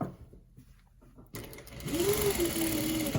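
A sewing machine stitches a knit collar seam on a baby sweatsuit, starting after a quiet moment and then running as a close, steady whir for the rest of the clip.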